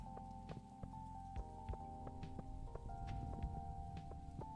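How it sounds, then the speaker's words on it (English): Soft, steady rainfall in the Stardew Valley video game, a faint patter under sustained tonal game music with occasional light clicks. "The Stardew Rain, so annoying."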